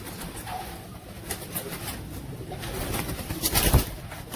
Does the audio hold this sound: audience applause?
no